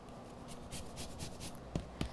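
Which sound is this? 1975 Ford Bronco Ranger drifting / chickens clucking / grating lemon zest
grating lemon zest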